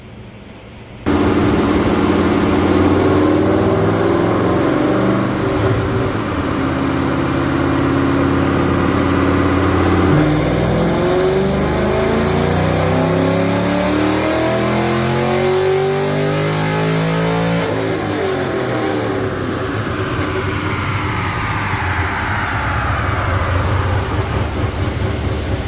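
An LS3 V8 car engine roars on a dyno during a full pull, climbing in pitch through the rev range, then dropping back and rising again, loud and constant throughout.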